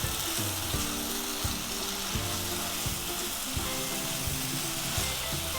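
Roast masala with Kashmiri red chilli fries in a kadai for kadai paneer, a loud continuous sizzle with regular stirring scrapes every half second or so, close up and alone.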